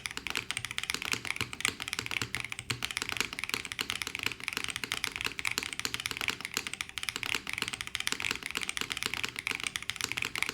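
Steady, continuous clacking of keys on a Float65 mechanical keyboard with no desk pad, fast and even, close up with no speech.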